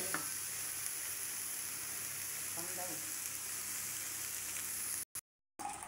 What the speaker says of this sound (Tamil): ரத்த பொரியல் சூப்பராக ஃப்ரை ஆயிடுச்சு